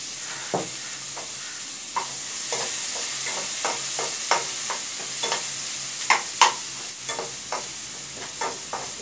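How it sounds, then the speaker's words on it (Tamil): Chopped onions frying with rock salt in a pan for a Pongal mixed-vegetable kuzhambu, a steady sizzle broken by repeated scraping stirs of the spoon, close and fairly loud, no talk. "வெங்காயம் கொஞ்சம் வதங்கினா போதும்"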